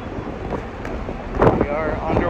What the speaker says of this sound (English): You know, a little windy out